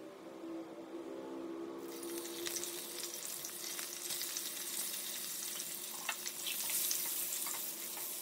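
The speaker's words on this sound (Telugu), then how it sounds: "ముందుగా కోడిగుడ్లు వేయించుకుందామండి" Eggs fry in hot oil with a pinch of turmeric, a steady close sizzle that jumps up sharply about two seconds in and then keeps crackling evenly, with no talking.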